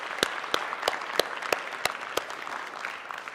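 An audience at an award session claps for the winners, with a few sharp, evenly spaced hand claps standing out over a light bed of applause, fairly brief.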